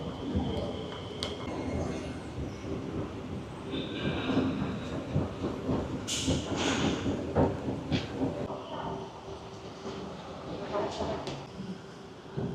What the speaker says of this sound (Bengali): এখন আমাদের ট্রেনটা চলে আসছে